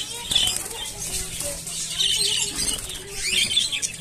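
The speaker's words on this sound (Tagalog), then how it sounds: "lumilipad-lipad talaga siya." A pied white parakeet flapping its wings while flying around inside an enclosure, with repeated bursts of fluttering wingbeats and a few faint chirps.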